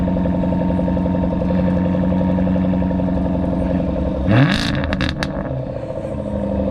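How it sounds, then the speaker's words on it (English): A Jaguar F-Type R sports car idles steadily with a deep, even engine drone, then a sharp burst of revving rises and drops back about two-thirds of the way through, loud and close. "This is the best bit of the videos, when we actually get the cars fired up."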